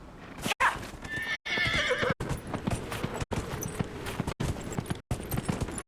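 Horse neighing and hoof clip-clops from the Dragon Age video game, a loud whinny early on followed by steady galloping hooves with game sound under them, cut by several brief gaps.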